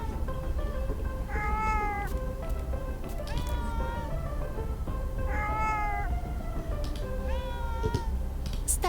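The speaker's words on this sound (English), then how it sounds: "The cat flattens her ears and grumbles." A cat vocalizes in the horror visual novel game Pink Noise, giving four drawn-out, whiny meow-like calls in two pairs over a steady low background hum.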